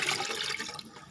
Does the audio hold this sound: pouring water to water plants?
yes